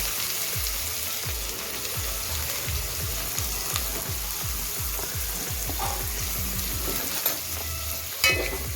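Onion and cumin frying in a pan for pav bhaji over low gas, a steady bright sizzle joined by a rapid run of rhythmic scraping stirs, then a few louder clanks.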